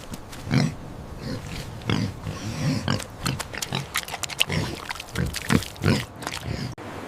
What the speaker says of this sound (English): It's a pig.